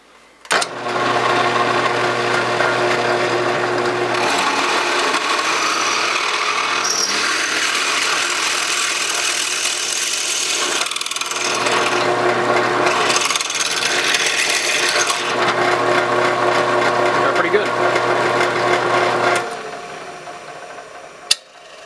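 A power tool machines a Polarstar CGS airsoft stock in a steady, loud grinding whine that runs for about twenty seconds, with a few brief dips and a short pause midway, and no talking.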